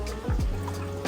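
Aquarium tank water is poured into a cave to flush out bristlenose pleco fish, a brief close trickle and splash of liquid, quiet and alone.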